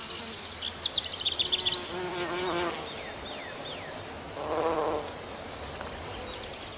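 Carpenter bees buzzing around garden flowers, several droning passes of varying pitch rising and fading as they fly near and away, with faint background insects and birdsong.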